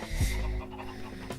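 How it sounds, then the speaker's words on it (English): Chickens spawned en masse in Minecraft inside a room, giving a short close burst of overlapping clucks and squawks with a low rumble beneath, all within about a second. "Just go crazy, and spawn chickens everywhere in this room."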